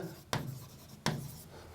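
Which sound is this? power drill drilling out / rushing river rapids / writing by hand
writing by hand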